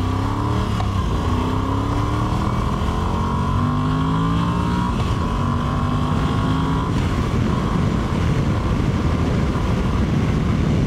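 A Moto Guzzi V85TT, an 800cc mid-size trail motorcycle, pulls away and accelerates through the gears with a steady rising engine drone, a shift dip and climbing pitch, heard with strong wind rush and no talking.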